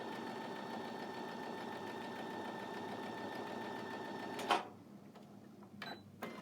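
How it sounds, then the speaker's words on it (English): Sewing machine running a quarter-inch seam on quilt fabric, a soft steady whirring hum held for over four seconds, ending with a sharp clunk and then near silence with small handling noises. "I'm going to take this to my machine. I'm going to sew a 1/4 inch."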